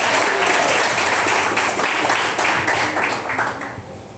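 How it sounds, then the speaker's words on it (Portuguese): A church congregation bursting into applause during a sermon, dense crowd clapping that holds steady and then tapers off toward the end. "Quem bate palmas?"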